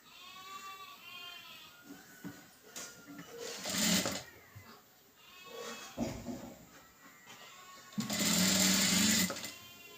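Sewing machine stitching blouse fabric, running in several bursts of rapid mechanical chatter with brief pauses between them, loudest near the end; close and clear, with no talking.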